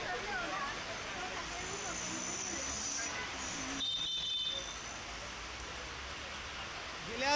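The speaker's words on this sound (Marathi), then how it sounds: "बदलापूरमध्ये गेल्या तासाभरापासून जोरदार पाऊस पडतोय" Heavy rain falls in Badlapur as a dense, constant roar, with faint passing vehicle noise mixed into the downpour.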